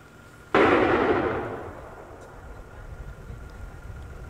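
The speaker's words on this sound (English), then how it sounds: "we've heard several different explosions, which really almost sounded like a jet was taking off." A single sudden explosion at the Interplastic Corporation chemical plant in Fort Wright bursts out at a distance, then fades into a long, low rumble over background noise.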